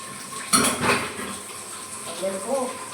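Metal pots, dishes and cutlery clatter and scrape as they are washed in a home kitchen, with a sharp clank near the start and softer rattling afterward, while someone talks over it.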